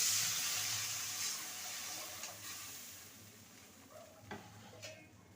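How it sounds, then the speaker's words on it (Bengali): Hot oil in a pan of fried radish, cooked for a radish-and-fish sour dish, bursts into loud hissing sizzle as water is poured in, then fades steadily, with a few light utensil clicks near the end. "মূলোটা ভাজা হয়ে গেছে এবারে দিয়ে দেবো পরিমাণ মতন জল"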